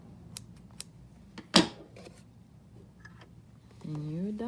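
Scissors snip loose threads from a freshly sewn invisible zipper, giving a few crisp close clicks and one louder cut amid soft handling noises, with a voice speaking toward the end.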